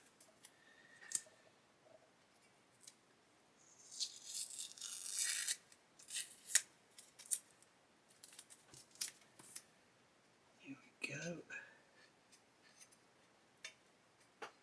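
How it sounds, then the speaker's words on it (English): Masking tape being peeled off the painted body of a 1/8 scale Pocher Lamborghini Aventador LP-700-4 model, a close, dry ripping burst of a second or so followed by scattered light clicks and handling taps in a quiet room. "if I get this masking tape off of here"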